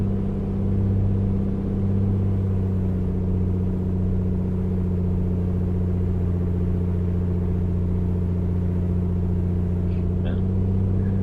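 Steady, loud drone of the A2A Comanche's piston aircraft engine idling on the ground in a flight simulator, holding an even low hum throughout with no talk over it.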